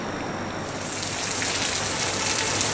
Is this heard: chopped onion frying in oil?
no